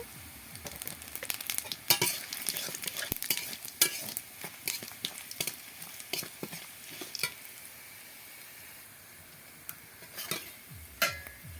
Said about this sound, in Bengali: রসুন আমার ভালো করে ভাজা হয়ে গেছে এখন দিয়ে দেব করা জিরে